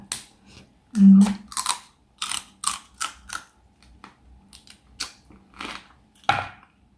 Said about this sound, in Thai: ฟังเสียงดูดจริงจังมาก